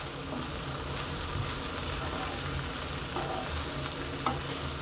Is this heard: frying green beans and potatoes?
yes